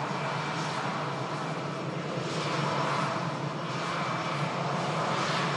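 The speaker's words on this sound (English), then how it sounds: "Lufthansa for Frankfurt on the way out. Standard 320 this." A Lufthansa Airbus A320 departs for Frankfurt, its jet engines holding a loud, continuous roar at a steady distance throughout, with no talk.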